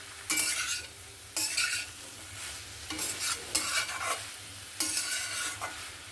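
Kohlrabi curry is stirred in a pan after sugar is added, with bursts of scraping stirs over a low sizzle, separated by short pauses, up close and with no speech.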